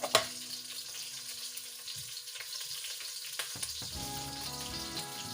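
Cumin seeds sizzle in hot oil, a quiet steady crackle that opens with a sharp clink, stays soft and fizzy, and brightens slightly near the end.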